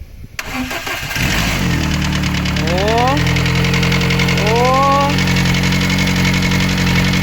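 A car engine with a replaced used cylinder head cranks on its first start, catches and settles into a loud, rough idle with a knocking rumble, while a man calls out briefly over it.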